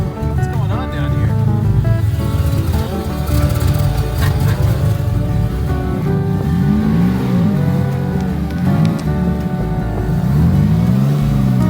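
A car engine revs and hums steadily as the vehicle pulls out, with changing pitch sweeps over a continuous rumble; people talk over it throughout.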